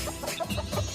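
Chickens clucking close by, a busy cluster of short, overlapping clucks with nothing else behind them.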